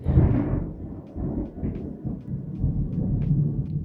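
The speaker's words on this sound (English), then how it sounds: "That was thunder." Thunder rumbles low and heavy, starting with a louder crack-like onset and rolling on for several seconds, with rain and no talking.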